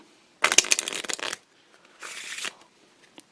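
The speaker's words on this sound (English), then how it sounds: "I'm gonna shuffle the deck" Two quick riffle shuffles of a deck of cards, crisp fluttering bursts close by, the first longer than the second.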